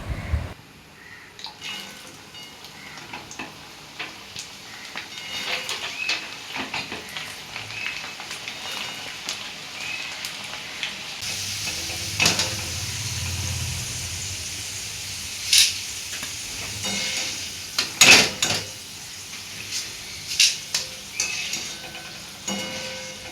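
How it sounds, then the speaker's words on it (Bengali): Flattened rice (chira) fries in a pan for dal chanachur, a steady hiss and sizzle broken by scraping stirs and occasional sharp crackles, with no talking. "এবার চিড়েটা ভাজছি"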